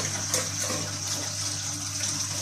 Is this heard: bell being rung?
no